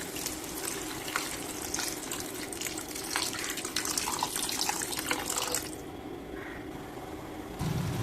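Water streams steadily into a curry pan holding spices, cashews, drumsticks, raw banana and tomato. The pour is loud and continuous for several seconds, then stops abruptly.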